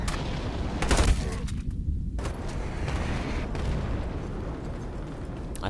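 Gunfire from the Ironsight video game, including a vector-type gun, with a loud burst near the start followed by a steady wash of rumbling shots and game noise throughout.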